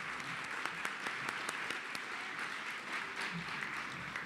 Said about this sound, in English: Please, a round of applause for our 2023 AES Ohio Students of Integrity Scholarship recipients.